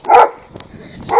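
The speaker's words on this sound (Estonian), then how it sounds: "Koer" A dog gives two short barks, one at the start and one at the end, fairly close and loud, with faint clicks and low background noise between them.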